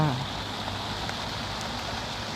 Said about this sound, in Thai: ตอนนี้เป็น ช่วงที่ฝนตกนะคะ